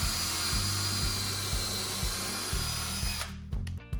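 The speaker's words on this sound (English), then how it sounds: "To pre-drill the 2x4s, we're going to use our 3/32 bit." A power drill with a 3/32 bit pre-drilling through two stacked 2x4 boards for a storage shelf, a close, loud whirring hum with rhythmic low pulses for about three seconds, then abrupt clattering as it stops.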